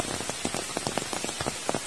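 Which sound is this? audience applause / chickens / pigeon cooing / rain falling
rain falling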